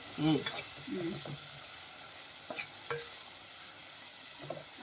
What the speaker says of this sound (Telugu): టమాటా కోసుకున్న టమాటాలు కలుపు. చక్కగా కలుపు.